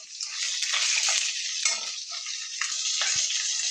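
Green chillies, curry leaves and black gram lentils hiss in hot oil in a pan for a bottle gourd chutney, with a broad close sizzle and a few soft scraping stirs and light utensil taps, no voices.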